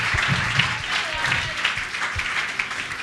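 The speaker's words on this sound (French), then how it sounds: "On peut acclamer le Seigneur." A church congregation applauds and cheers in praise of the Lord, with sustained clapping throughout and voices mixed into the crowd noise.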